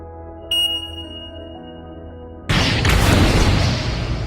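A sudden, loud bomb blast bursts in after a quiet ringing tone, followed by a sustained roaring rumble, in a film.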